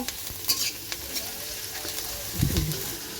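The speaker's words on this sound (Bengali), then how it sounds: "গাজরগুলোও আমি লাল লাল করে ভেজে নেব" Chopped carrots fry in a hot kadai while a fried rice dish is prepared, giving a steady close sizzle with a few sharp scrapes and clinks of stirring.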